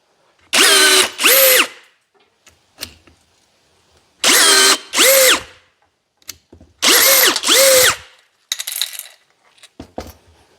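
Parkside PABNSG 20 cordless rivet gun on 5x18 steel rivets, three loud paired motor whirs, each burst lasting about half a second with short gaps, followed by small clicks and handling taps, close by and without speech.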